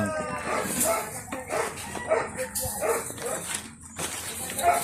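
A dog barks in short, sharp bursts at moderate distance outdoors beside a small hut being built, with a voice speaking intermittently between the barks.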